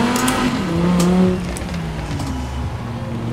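Cyberpunk-styled Quadro V-Tech car with a seven-speed gearbox driven at night in Forza Horizon 4, a steady engine drone rising in pitch then settling into a lower cruising hum, loud and close.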